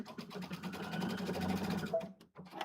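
A sewing machine runs a straight stitch while a zipper is sewn, giving a close, soft, rapid mechanical whir for about two seconds, then brief stop-start bursts.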